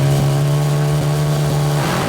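Racing motorcycles idling and revving together on a starting grid, a dense, steady engine drone with a strong low hum that holds level for about two seconds, no talk.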